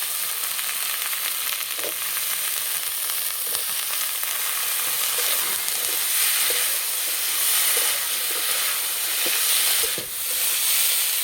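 Bottle gourd stems frying in a pan with spiced potatoes give a steady close sizzle and hiss, broken by occasional stirring scrapes and clinks.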